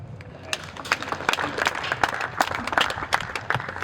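A small group applauds tennis players on a court, a light, scattered clapping that stays fairly soft and steady for a few seconds.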